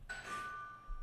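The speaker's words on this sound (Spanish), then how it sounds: "No, el timbre." A doorbell rings once inside a horror video game, a soft two-tone chime with a sustained ringing tail, heard alone at moderate level.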